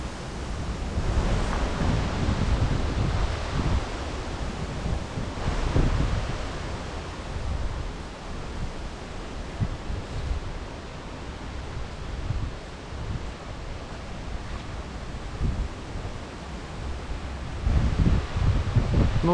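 Strong autumn wind roars continuously outdoors in a park in Peterhof, gusting and buffeting the microphone with rushing, rustling noise throughout.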